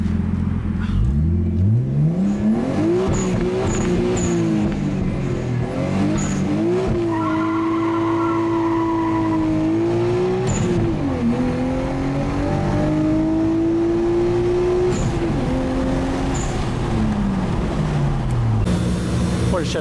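A Hellcat-engined Mazda Miata MX-5 track car roars on a dyno, its supercharged V8 revving up and down through repeated loud, sustained pulls with a continuous close engine howl and no pause.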